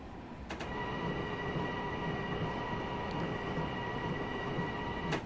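Long Island Rail Road train running in Train Simulator Classic, a steady rumbling drone with a few faint mechanical tones, occasional brief clicks and knocks over the continuous running noise.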